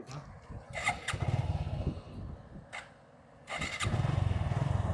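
A motorcycle engine rumbles and revs in bursts at moderate distance during a bike photo shoot in Jaffna, Sri Lanka, with a brief lull before it surges again.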